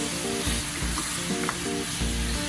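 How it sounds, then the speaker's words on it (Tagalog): Pork baby back ribs searing in a hot wok, a loud continuous sizzle and crackle with periodic scraping stirs, close and steady, no voices. "Isisir kasi natin to para mas lalong lumabas ang lasa ng karne."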